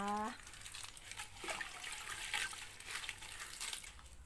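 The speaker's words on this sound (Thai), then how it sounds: "เดี๋ยวเราจะมาเตรียมคั้นน้ำยานางเพื่อที่จะได้แกงหน่อไม้นะคะ ใช้มือคั้นเลย" Hands squeeze and wring yanang leaves in a bowl of water for juice, giving soft, close sloshing and wet squelching, faint and continuous, with a voice at the start.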